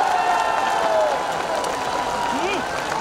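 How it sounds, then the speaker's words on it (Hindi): Crowd applauding at a Modi rally in Jeypore, steady continuous clapping from a large audience with background chatter throughout. "आप सब भी हमारे देश के सुरक्षा बलों के लिए, हमारे देश के वैज्ञानिकों के लिए तालियां बजा करके उनका सम्मान कीजिए"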